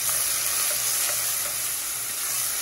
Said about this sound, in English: I'm gonna add in the onions. It's gonna explode here. You can hear.